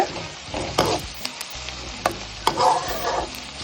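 Chopped onion and asafoetida sautéing in a pot for drumstick leaf sambar, sizzling under several sharp spatula scrapes and clinks, close and fairly loud, with no talk.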